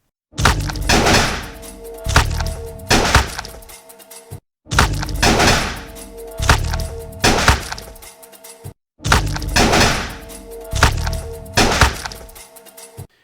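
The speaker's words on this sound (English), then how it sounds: "we end up with a really cool looking gunfight. And with a little bit of sound design, this is the result" Gunfight sound design for a visual effects composite: three identical bursts of sharp, punchy impacts with ringing tails, each lasting about four seconds and separated by brief silences, loud and close with no talking.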